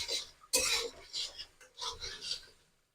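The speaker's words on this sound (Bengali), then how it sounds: "মশলাটাকে ভালো করে কষিয়ে নেব।" A spice masala being stirred and fried in a pan with salt and cumin powder, for a vegetarian raw banana kofta curry, giving bursts of scraping and rasping from a spoon against the pan, close and moderately loud, with brief pauses.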